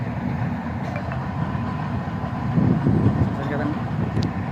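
A train rumbles steadily past on a wide curve through green farm fields in Kadiyam mandal, a low continuous rolling sound with faint rail clatter, swelling slightly closer midway, with no voice heard.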